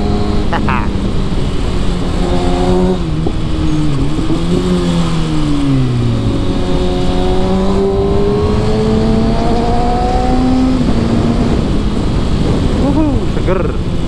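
Motorcycle engine revving and accelerating during trackday preparation at Mandalika circuit, a loud close roar with rising and falling pitch sweeps as gears change, continuous for the whole stretch.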